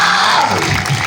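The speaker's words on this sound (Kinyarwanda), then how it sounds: "Clap for him" Congregation at a church service in Rwamagana, Rwanda, clapping and cheering: a loud, dense wash of crowd noise with shouts and applause filling the whole moment.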